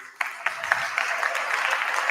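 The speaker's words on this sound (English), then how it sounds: "then we can clap for everyone" An audience at a drumline send-off show claps for the battery staff, dense steady applause building quickly after a brief lull and holding at a loud even level.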